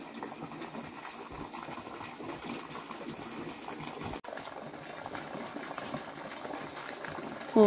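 Water heating on the boil in a pot on a cold mountain morning, a steady close bubbling and seething that runs without a break the whole time, with a short sharp gap near the middle.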